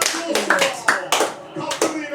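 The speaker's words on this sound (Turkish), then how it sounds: "Bu alkışlarım." A person's hands clap in irregular bursts of a few claps each, close and sharp, while watching a Kayserispor versus Beşiktaş football match.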